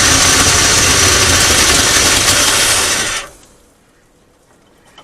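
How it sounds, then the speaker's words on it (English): A 1994 Ford F150 engine runs loud and rough with a dense broadband roar for about three seconds, then cuts off abruptly, leaving near silence. "right now, I want this engine running"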